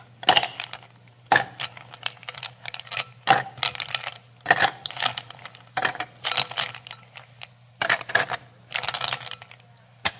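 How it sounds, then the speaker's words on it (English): Ice cubes tumble into a glass in several separate bursts of clattering and clinking, spread across the stretch with short pauses between pours, over a steady low hum. "now I would like you to fill that glass with ice cubes"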